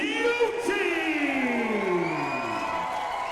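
Loud arena crowd cheering and whooping for a tag team's entrance at the RCW Trial By Stone 2024 wrestling show, a sustained roar with shouting voices.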